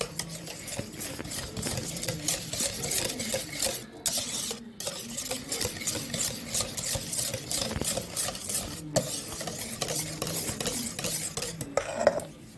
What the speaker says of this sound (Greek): Το ανακατεύουμε να λιώσει το βούτυρο.